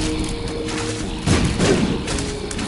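Enemy gunfire in The Binding of Isaac, a stream of soft thuds and pops over constant game music and effects, with a heavier burst of impacts in the middle.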